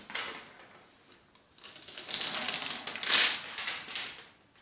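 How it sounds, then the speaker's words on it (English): Fingernails are trimmed with clippers, giving a few sharp clicks that rise above a steady background hiss, close and fairly loud. "I picked a good time to cut my nails"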